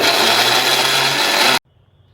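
Kitchen mixer grinder churning sesame seeds with palm jaggery, a loud dense grinding whir held close for about a second and a half before cutting off abruptly into near silence.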